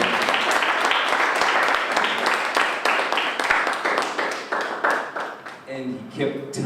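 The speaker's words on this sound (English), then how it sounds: "Another round of applause" An audience at an inspiration group gathering bursts into loud, sustained clapping that thins out into a few scattered claps near the end.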